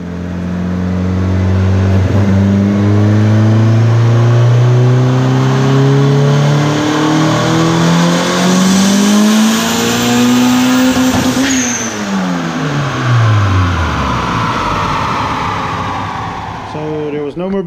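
A Honda S2000 with an all-motor K-series engine revs hard on a dyno, its pitch climbing steadily through a long, loud pull before dropping off and falling back to idle.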